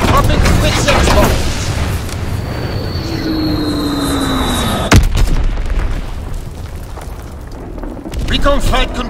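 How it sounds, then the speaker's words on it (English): In Call of Duty WWII at Pointe du Hoc, a dropped bomb whistles down in a falling tone, then bursts in a sharp, loud explosion over constant battlefield rumble and rolling noise. "Dropping Blitzex bomb."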